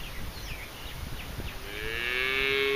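A cow and a bull mooing next door to a pond, with a few short calls followed by one loud, drawn-out moo close by.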